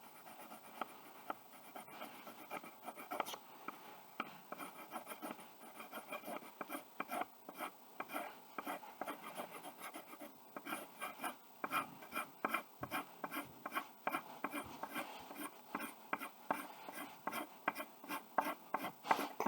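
Steady scratchy rasping of a pencil shading across paper, in rapid back-and-forth strokes that grow denser and louder, close up with no talking.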